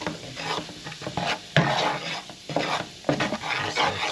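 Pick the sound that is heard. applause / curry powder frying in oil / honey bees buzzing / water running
curry powder frying in oil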